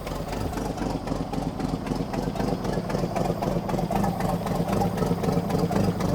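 A Citroën T45 truck engine idles at low revs, a deep, steady rumble with a constant low throb that holds close and even throughout, without speech over it.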